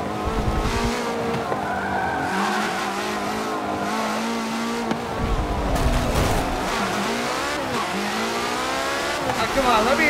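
A race car in a racing video game, its engine revving and shifting through gears with rising and falling pitch and some tire squeal, loud and steady, with a voice talking over it.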